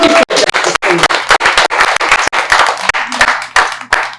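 An audience at an affordable housing announcement at a cultural centre claps in a loose, uneven rhythm, individual hand claps standing out close and loud with brief gaps between bursts.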